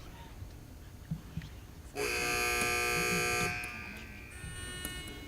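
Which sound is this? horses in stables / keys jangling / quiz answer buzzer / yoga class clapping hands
quiz answer buzzer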